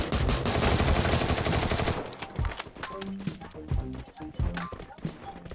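Rapid gunfire crackles in the mobile shooter Free Fire, first as a dense continuous burst, then as scattered single shots while a player talks over it.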